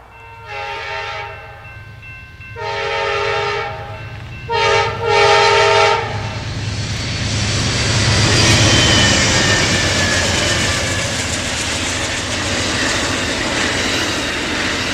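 An Amtrak passenger train on Burlington Northern Santa Fe rails sounds several loud horn blasts in a long-short pattern, then roars past with a heavy, sustained rumble and wheel noise, close and loud with no talk.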